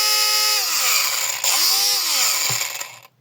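A 12-volt battery-powered angle grinder runs at a high, steady whine, dipping slightly in pitch midway, then spins down and cuts off near the end. It is loud and close, with no voices.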